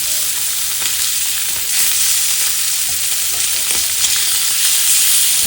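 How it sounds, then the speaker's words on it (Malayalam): Salmon fillet frying over low heat in a pan with only a little oil, a loud, steady, close sizzle and crackle that continues without pause. "ചെറിയ തീയിൽ ഇതുപോലെ സ്വല്പം എണ്ണയിട്ട് വറുത്തെടുക്കുന്നതാണ് ഏറ്റവും സാധനം ഫിഷിന്"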